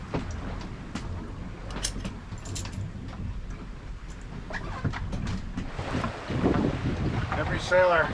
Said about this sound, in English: 12 knots of wind, 6 knots across the bottom.